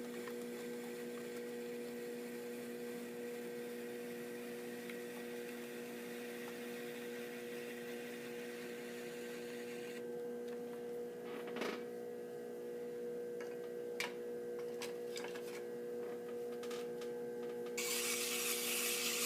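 A clay bottle is trimmed on a pottery wheel: a steady motor hum with a soft continuous rubbing and scraping of a tool against the clay, quiet and close, with a few sharper scrapes near the end.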